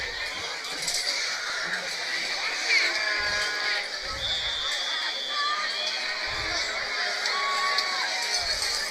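A high school varsity football crowd at a Belen Jesuit vs La Salle game cheers loudly and continuously, with an announcer talking over the steady roar.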